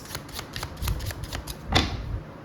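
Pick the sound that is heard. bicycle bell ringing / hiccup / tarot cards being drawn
tarot cards being drawn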